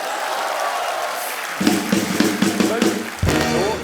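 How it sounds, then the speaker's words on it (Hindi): Studio audience of The Kapil Sharma Show applauding for Alia, a rising burst of clapping and cheering that starts after a moment of quieter sound and swells again near the end. "तालियां आलिया के लिए"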